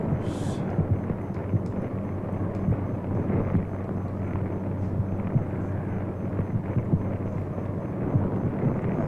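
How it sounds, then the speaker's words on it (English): Steady wind roars through a desert sandstorm, a dense broadband rush with a low rumble that holds evenly from start to finish, with no voices over it. "Anyway the wind blows."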